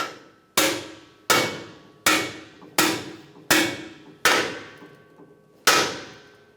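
A hammer drives a rear axle bearing into the axle housing of a Chevrolet Silverado, eight sharp metallic clanks at a steady pace with short ringing decays, loud and close with no talking.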